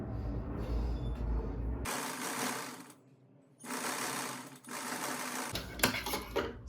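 A sewing machine stitches salwar pieces together from the reverse side in close, loud bursts of running stitches, separated by a short pause and ending with another run.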